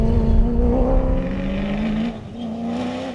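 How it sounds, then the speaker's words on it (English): A BMW X3 rally car at the Nkomazi 450 rally roars past with a loud, steady engine drone that dips slightly as it moves away, alone without talk. "Treasury 1 BMW X3 enjoying a clean run"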